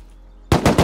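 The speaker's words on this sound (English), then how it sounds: "Oh, I'm dead to AK." A burst of AK rifle gunfire in a video game, three or four rapid loud shots cracking out abruptly after near silence.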